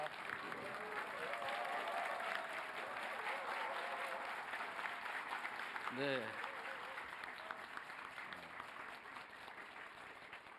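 Sustained applause and cheering from a large audience at a presidential town hall meeting in Gangwon, South Korea, fairly distant and steady, with a brief spoken word briefly cutting through partway.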